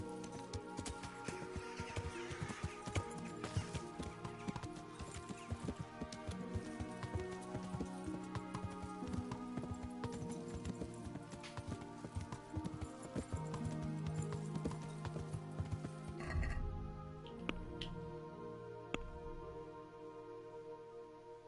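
A ridden horse's hooves beat steadily in Kingdom Come Deliverance along a river, a continuous close clip-clop rhythm over game music, with a brief splashy change near the end.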